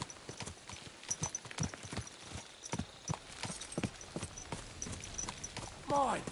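A ridden horse's hooves clip-clop in an irregular series of sharp knocks, close by, with a brief whinny-like call near the end and people talking around it.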